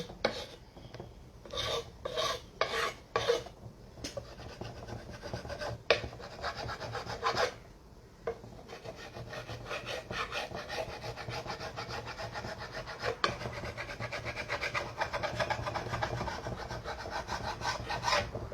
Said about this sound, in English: I'm just going to scrape a little bit off just to bring some of those colors out.